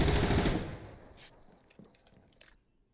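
Rapid automatic gunfire from a Zero Hour competitive match, a loud dense burst up front that trails off into scattered, fainter shots and clicks over the next couple of seconds.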